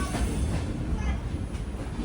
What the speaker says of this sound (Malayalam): 4:30 വിജയവാഡയിൽ നിന്ന് ഇതാ ട്രെയിൻ എടുത്തു.